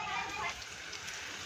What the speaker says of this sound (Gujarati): 2 દિવસથી કન્ટિન્યુ વરસાદ ચાલુ જ છે મિત્રો.